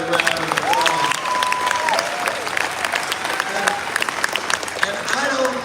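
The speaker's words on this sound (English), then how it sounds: "Let's give them another round of applause" Crowd applause for a drum line at a Los Angeles Clippers facilities event, loud sustained clapping with cheers and whistles and voices mixed in throughout.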